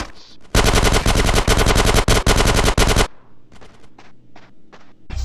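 Loud automatic gunfire from Grand Theft Auto: San Andreas rattles in a dense sustained burst for about two and a half seconds, followed by scattered single shots and shorter pops.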